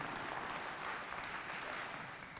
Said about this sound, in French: Applaudissez très fort pour vous.